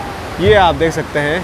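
The Mandakini river near Kedarnath rushes with a steady broadband roar beneath a person speaking close by.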